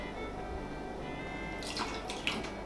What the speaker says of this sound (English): I'm just going to add a tablespoon of strong coffee.